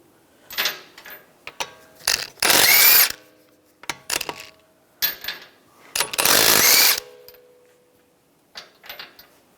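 Lug bolts come off the wheel of a 2013-2016 Dodge Dart under a 19 mm socket on an impact tool, which gives two loud, close bursts of buzzing rattle about a second each, with ratcheting clicks and clanks between them.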